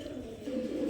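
A pair of green rose makra pigeons offered for sale coo steadily and close by, a low continuous murmur running the whole time with no talk over it.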